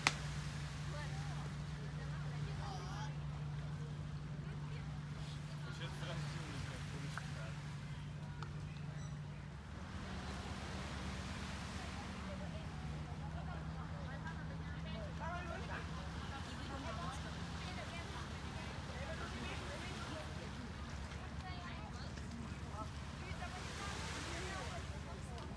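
A speedboat roars along toward Koh Larn Island in Thailand, its engine droning low and steady with wind buffeting and water rushing past, while voices talk faintly underneath.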